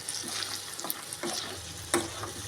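Spices with asafoetida sizzle in hot oil for a mango pickle tempering, with several sharp crackles and pops spaced irregularly over a steady frying hiss, close by.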